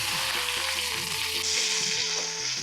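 Chopped garlic and onion frying in hot oil for a masoor dal tadka, a dense continuous sizzle with a loud hiss throughout, close up, while faint music plays underneath.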